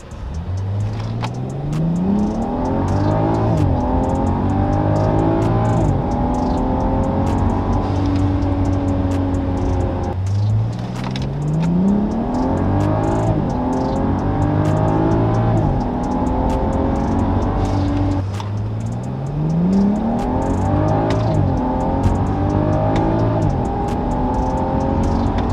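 A BMW 535i fitted with a Racechip XLR tuning module accelerating hard from a standstill, engine pitch climbing through three full gear runs with brief drops at each shift, loud and steady from inside the car.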